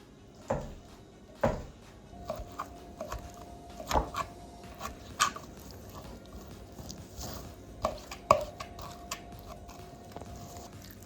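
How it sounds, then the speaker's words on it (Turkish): A knife chops liver for Albanian-style fried liver on a cutting board, a series of sharp, irregular close knocks spaced a second or more apart against a quiet kitchen background. "Şimdi Arnavut ciğerlerimizi doğrama aşamasına geçtik."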